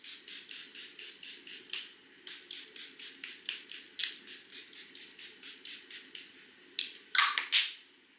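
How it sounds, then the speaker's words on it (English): Charlotte Tilbury Airbrush setting spray misting in quick succession, a long run of short, crisp hissing spritzes close up, pausing briefly and ending with a few stronger bursts. "Where is my setting spray? I'm gonna use the Charlotte Tilbury airbrush."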